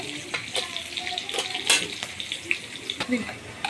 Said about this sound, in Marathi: आपल्या ह्या कढईमध्ये फोडणी घालायची आहे आमटीला